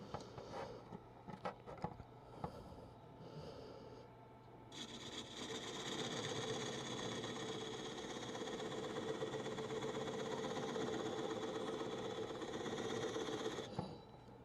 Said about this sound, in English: I'm going to take this teeny little detail spindle gouge and I'm going to put a dovetail on it